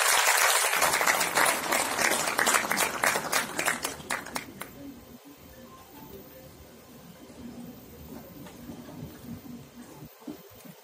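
Loud, dense applause from an audience at a BJP political event welcoming a guest: sustained clapping for about four seconds, then trailing off into a quieter room murmur.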